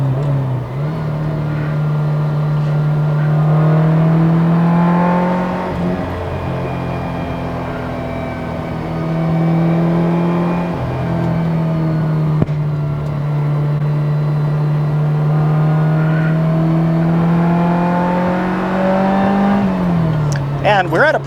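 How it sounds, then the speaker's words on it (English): A carbureted Ferrari 308 GTB engine hums in a steady, droning burble as the car is driven at high altitude. The note rises and falls gently throughout, close and fairly loud, with a person talking over it. "It kind of feels like a little rally car, the way it sounds and the way it feels, kind of burbles and backfires and whatnot."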